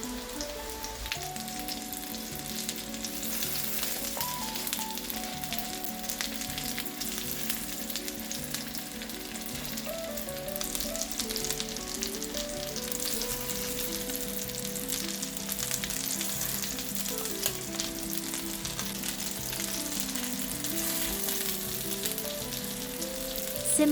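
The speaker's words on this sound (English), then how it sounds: "Fry the patties on both sides." Ground meat patties fry in a hot pan with a steady, dense sizzle and crackle that holds at an even level throughout, with no voices, while light musical tones run underneath.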